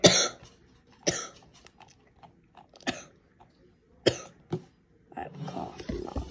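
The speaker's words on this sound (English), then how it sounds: "I have a cough." Several separate harsh coughs and throat-clearing bursts spaced across the clip, fairly close, with quiet stretches in between.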